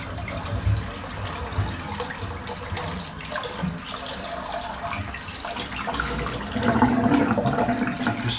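Tap water runs steadily into a bathroom sink as it is rinsed out after a wet shave, a continuous splashing rush that swells slightly louder near the end.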